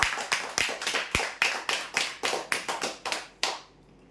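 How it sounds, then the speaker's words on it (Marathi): Scattered hand claps for prize draw winners receiving a hair dryer, about a dozen separate sharp claps in a quick uneven rhythm before they fade out, with no voices. "हेअर ड्रायरसाठी जोरदार टाळ्या"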